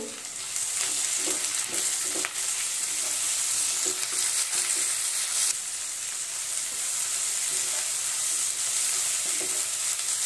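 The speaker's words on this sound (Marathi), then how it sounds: "तीही आपण तेलामध्ये परतून घेऊ" Onion and two chopped tomatoes sauté in oil for a mushroom masala gravy, a steady bright sizzle with occasional scraping stirs of a spatula, close and continuous with no talking.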